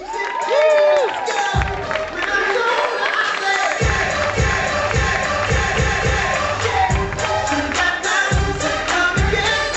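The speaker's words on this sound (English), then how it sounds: "I want a thunderous round of applause for our very proud father of the groom, Ted, and our groom's stepmom, Sally" Cheering and clapping from guests at a wedding reception, with whoops and shouts over rhythmic music, while voices carry through the lively, loud mix.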